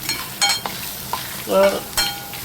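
Masala with coconut being sautéed in a pan, close, uneven bursts of frying with spoon scrapes and stirring clatter between quieter stretches of sizzle.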